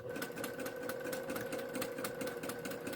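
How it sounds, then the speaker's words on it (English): Sewing machine chain piecing fabric pieces, stitching in a fast, steady mechanical whir with an even rhythmic clatter, close and continuous with no voice. "where you just keep on sewing pieces together without cutting everything apart"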